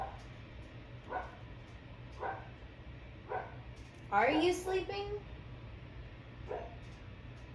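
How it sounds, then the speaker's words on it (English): A sleeping puppy gives soft, muffled yips and little woofs at irregular intervals, with one longer whimpering bark; a person speaks quietly nearby. "My puppy is, like, barking in her sleep right now."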